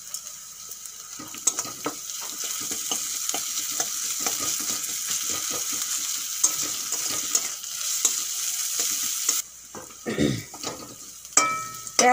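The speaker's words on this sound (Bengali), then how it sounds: "পেঁয়াজ আদা রসুন ভালো করে ভাজা হয়ে গেছে" Onion with grated ginger and garlic frying in oil, a continuous close sizzle broken by spatula scrapes and stirring clatter, softening briefly near the end before resuming.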